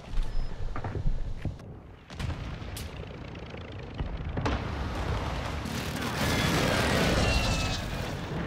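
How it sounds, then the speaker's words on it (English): Friendly airstrike explosions in Call of Duty Modern Warfare II, a dense rumbling barrage of blasts and crackling impacts that builds and stays loud and continuous toward the end. "Friendly airstrike in the AO."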